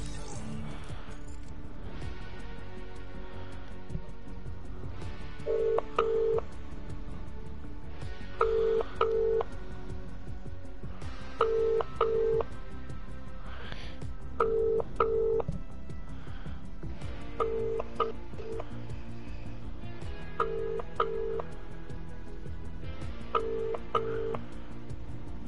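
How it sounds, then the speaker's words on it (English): An outgoing phone call rings out during a Fortnite party chat, with a repeating ringback tone sounding about seven times at steady intervals of roughly three seconds over a faint, constant background hum. "Okay, except I just need to call Zulu."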